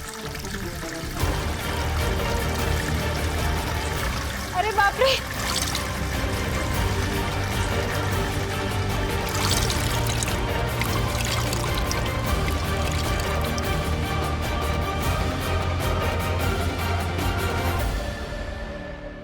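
Water pours and gushes continuously for a long stretch, a heavy steady rush with a brief exclaiming voice near the start.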